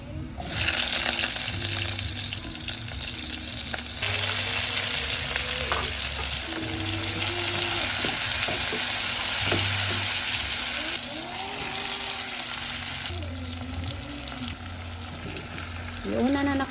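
Meat frying in its own rendered fat in a pan, a steady close sizzle that runs throughout, with occasional stirring and faint voices in the background.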